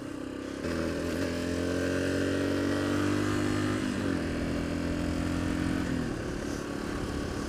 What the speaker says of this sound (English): I'm going side to side, having fun on the motorcycle